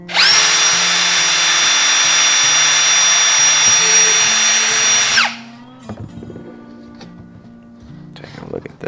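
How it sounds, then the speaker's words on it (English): A power drill bores a hole with a 5/32 drill bit while building a DIY micro live bait well, a loud continuous high whine that holds for about five seconds, then cuts off, leaving quieter handling clatter. "With the same 5/32 drill bit, put our first hole in."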